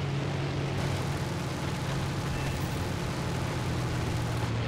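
Engine drone from a damaged, burning Focke-Wulf Fw 189 twin-engine aircraft in War Thunder, both engines winding down; a steady, loud low hum with broadband roar fills the whole stretch, no speech.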